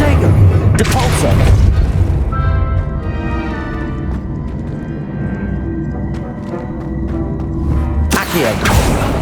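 The Depulso spell in Hogwarts Legacy strikes with a deep booming blast at the start, followed by a ringing, shimmering magical tail, then another heavy burst near the end.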